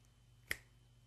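A single sharp finger snap sounds close and crisp against a quiet background, made during a rubber band magic trick.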